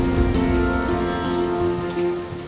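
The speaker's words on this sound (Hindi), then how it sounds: "इस वर्षा में आगे बढ़ना," Heavy rain pours steadily in a dense, continuous hiss of drops on surfaces, loud and close throughout, with a faint sustained tone underneath and no voices.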